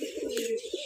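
Pigeons coo in a steady low warble, one nearby bird prominent over a soft continuous murmur of others, with a brief rise partway through.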